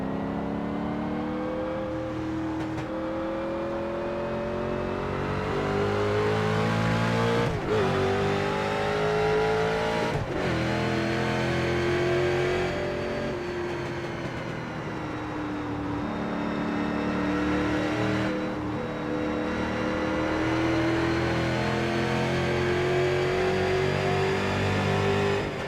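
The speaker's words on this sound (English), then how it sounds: "the cars do sound like awesome in this game" Race car engines from the iRacing sim rev and run steadily for a long stretch, with rising and falling pitch as the cars accelerate and shift, loud and continuous with no talk.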